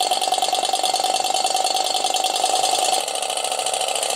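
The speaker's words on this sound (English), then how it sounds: "Right, engine's been running for a few minutes now." A solar-powered Stirling engine runs steadily in hot sun, giving a fast, even mechanical rattle and whirr that holds throughout, close and fairly loud, its tone dropping slightly partway through.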